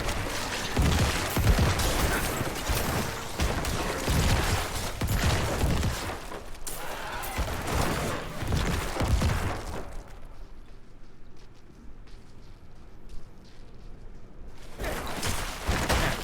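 Diablo 4 Necromancer Corpse Explosion and Bone Spear effects burst in dense, crackling booms and impacts one after another, loud and busy, with a quieter stretch before the barrage resumes.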